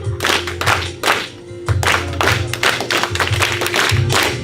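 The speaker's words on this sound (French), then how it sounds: "allez, clap, clap" A church audience claps in irregular loud bursts, dense and close, with a steady hum underneath.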